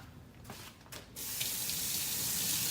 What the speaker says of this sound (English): I'm gonna rinse the salt pork off really good and throw it in the soup